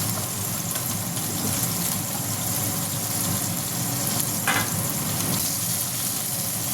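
A steady sizzle of cauliflower frying in a pan, continuous and fairly loud, with no talking.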